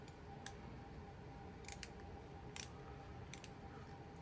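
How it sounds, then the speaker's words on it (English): A torque-limiting adjustable ratchet, a flea-market find, gives a handful of sharp, faint clicks spread irregularly over a few seconds against a quiet background hiss. "if it gets a little bit tight, it'll actually click the ratcheting mechanism"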